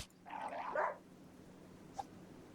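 A dog attacks in the RimWorld video game, giving one short snarling bark-growl burst followed by a faint brief yelp against quiet game background.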